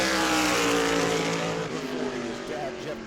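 A NASCAR Whelen Modified Tour race car on a qualifying lap at New Smyrna gives a loud, close engine roar that slowly fades and lowers in pitch as it moves away.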